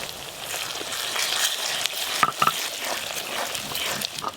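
Ground spice paste fries in a hot pan with a continuous loud sizzle, broken by a couple of sharp scraping stirs.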